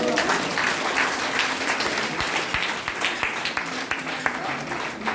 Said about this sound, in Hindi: एक जोरदार ताली होनी चाहिए आप सबको।